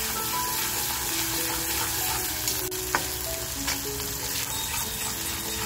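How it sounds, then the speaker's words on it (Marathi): Onion sautéed with crushed garlic and chili in a hot pan gives a constant loud sizzle and crackle, with a few spatula scrapes and taps on the pan standing out, close by and with no voices. "आपण जी लसूण मिरची टेचली आहे ते टाकते. आणि मस्त असं खमंग याच्यामध्ये परतवून घ्यायचंय आपल्याला."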